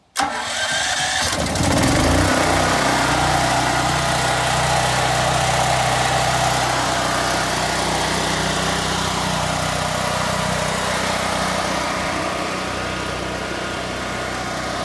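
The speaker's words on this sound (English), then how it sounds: "and start the engine." A portable gas generator housed in a noise-isolating shed cranks and catches, then settles into a steady, loud running drone that holds unchanged for over ten seconds, with no talking.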